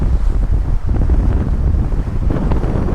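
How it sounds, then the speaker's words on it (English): Strong coastal wind on the East Coast by the River Humber, gusting to about 45 knots, roars and buffets the microphone continuously with no letup, loud and close, with no talking. "The wind's got up to about 45 knots now."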